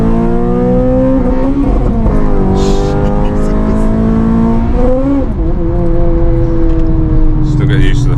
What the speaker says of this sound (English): did you notice then how it rev matches? Automatically, so you don't have to blip the throttle.